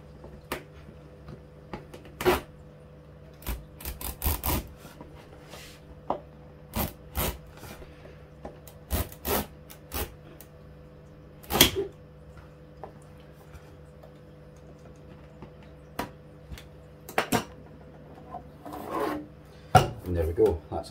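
A utility knife with a new blade scores a polycarbonate twin-wall sheet for a reef tank lid. Short, raspy scraping strokes repeat irregularly over a steady low hum, close and without voices.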